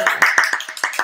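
Several sharp hand claps from a small audience at a church gathering, bright, close and slightly uneven in rhythm, about seven claps over a second.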